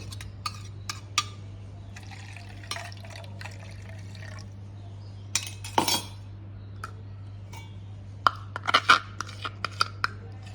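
Kokum kadhi mixture is tipped out of a mixer jar in small, intermittent drips and splashes, with faint clinks of glass and utensils over a steady low hum.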